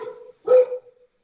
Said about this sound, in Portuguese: deixa essa cachorra aí parar de latir